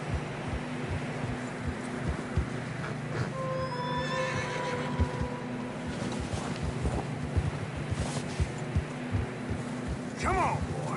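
Horses neighing loudly amid steady hoof clip-clops on a narrow trail with fresh snow, with wind noise and occasional voices in the background.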